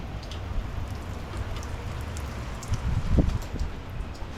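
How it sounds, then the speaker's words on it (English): Light rain falling beside a porch, a steady close hiss of drops with scattered patters and a brief louder splash near the end, no voices. "Getting a little rain today."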